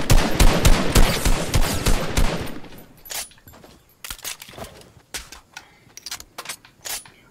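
Gunfire in the Fortnite battle royale game: a loud, rapid burst of shots for the first couple of seconds, then scattered single cracks and short bursts, with almost no talking.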